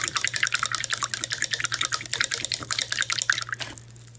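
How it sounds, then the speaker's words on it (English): A paintbrush swishes in a cup of water, making close, continuous splashing and trickling for about four seconds before stopping abruptly. "Make sure you always rinse your brush off."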